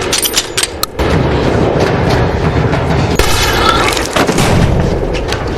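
Gunfire in a zombie film, loud booming shots and rapid bursts crowding the scene, with a sharp crack near the start followed by sustained heavy rumbling blasts close up.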